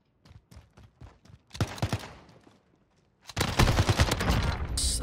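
SMG bursts in a Modern Warfare 2v2 match: a run of sharp, evenly spaced shots, then a louder rapid burst, a short pause, and a sustained loud stream of automatic fire to the end.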